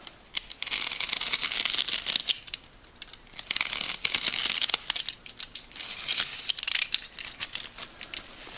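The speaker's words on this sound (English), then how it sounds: "I'm going to cut this strip here without trying to cut the corner." Rush weaving material being cut away from a weaving frame, a dry crinkly rustling and snipping that comes in bursts with short pauses, close and fairly loud.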